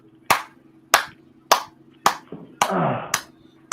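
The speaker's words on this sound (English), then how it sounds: "Slow clap." A single person gives a slow clap, six loud, evenly spaced claps about half a second apart, close by over a low steady hum, with a brief scrape in between.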